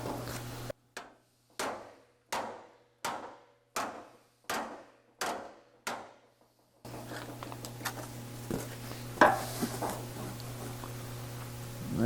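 Small hammer hits land on an aluminum shroud for an Austin-Healey 3000, eight sharp, evenly spaced taps ringing briefly in a quiet shop, followed by a steady hum and a few lighter knocks.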